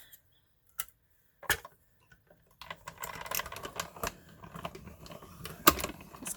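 A die cutting machine cuts a word out of paper with a die, giving a steady run of soft crunching clicks and rattles at close range after a few separate taps, with no voices.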